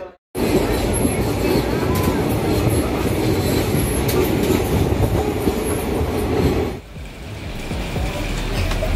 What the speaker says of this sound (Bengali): ওয়েট করছি উত্তরবঙ্গ এক্সপ্রেস আসবে এবং উঠবো